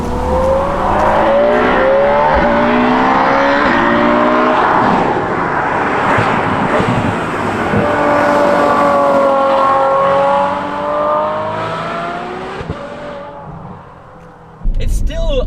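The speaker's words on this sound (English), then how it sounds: "the sound of the IPE exhaust that I've installed on this car is still a wonderful thing." A Ferrari F12 V12 fitted with an IPE exhaust revs and howls, its rising and falling harmonic sweeps loud and close, then fading toward the end before a short burst.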